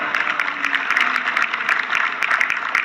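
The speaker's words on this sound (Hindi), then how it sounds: "ऐसे जो 15-20 लोगों ने तालियां बजाई हैं" Applause from a small audience of around fifteen or twenty people at a direct selling event, a steady patter of clapping that holds evenly throughout with no voices over it.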